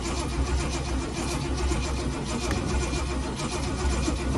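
A car engine cranks and struggles to start, a dense, steady mechanical churn that holds loud and even throughout with no voices.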